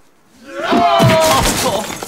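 Window glass shatters with a loud burst of breaking shards lasting about a second and a half, while a voice cries out over the crash in a comedic film scene.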